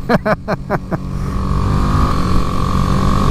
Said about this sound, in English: Oh, we're slowing down. She's just engine braking.